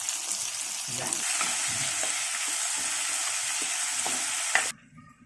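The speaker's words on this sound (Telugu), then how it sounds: "ఇలాగా ఆనియన్స్ వేసుకోవాలి. ఇలాగా బాగా ఫ్రై చేసుకోవాలి." Steady, close sizzling of onions frying in a pan for a small bitter gourd curry, with occasional stirring scrapes, cutting off abruptly near the end.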